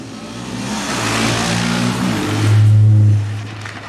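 A Mazda MX-5 Roadster launches from a race start, its engine revving loudly and climbing in pitch as it pulls away, with the roar peaking near the end. No one speaks.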